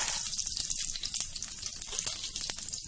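Fenugreek seeds, dried red chili pieces and curry leaves fry in hot oil for a raw mango rasam, giving a steady bright sizzling hiss with small crackles and pops throughout.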